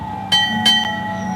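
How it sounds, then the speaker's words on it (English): Two bright metallic strikes of a Navy bell tolling at a military memorial service, each ringing with a sustained overtone-rich tone over a low steady background hum, the second stroke followed closely by a faint echo. "Punctuated by the tolling of a Navy bell."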